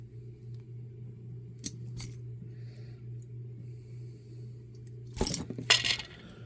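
A PlayStation 2 controller wire is cut: after a stretch of quiet hum, two or three sharp, close metallic snips come in quick succession near the end.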